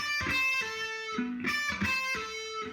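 A short electric guitar pentatonic fill with several quick picked notes, a pull-off and a held note, played clean and fairly loud with no voices.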